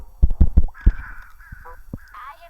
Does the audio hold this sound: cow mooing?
no